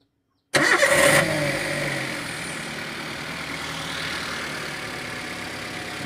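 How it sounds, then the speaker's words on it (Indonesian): A Toyota Avanza/Daihatsu Xenia engine cranks and fires after a brief silence, catching loudly with a short rev before settling into a steady, close idle with no talk. "ini mobil sudah siap dihidupkan. Yuk, tolong hidupkan mesinnya."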